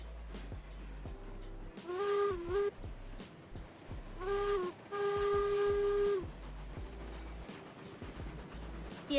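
Train passing in a Roblox game, its low rumble broken by three sustained horn blasts, each a chord-like tone lasting about a second, the last one longest, heard up close with no speech.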